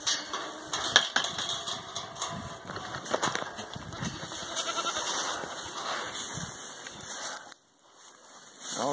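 A goat with its head stuck in a fence bleats repeatedly at close range outdoors, its cries rising and falling against a steady background hum and rustling.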